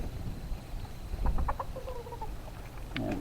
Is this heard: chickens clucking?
yes